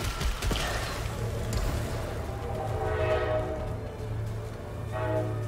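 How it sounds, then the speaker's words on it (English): Loud train rumbling past outside an open window, a steady low roar with rising and falling mechanical tones and a brief horn-like hum, continuous throughout with no speech. "That's a loud train. My window's open."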